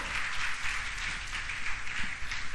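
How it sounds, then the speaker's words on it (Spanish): A church congregation applauds during a Sunday service, a steady wash of many hands clapping at once, fairly loud and continuous with no break, with no speech over it. "Yo quiero un aplauso para esos hombres, para esos padres, para esos abuelos valientes"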